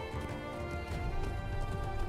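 Horse hooves clip-clop in a steady trotting rhythm in the Lord of the Rings Online game, mixed with rumbling ambient game music and low background sound.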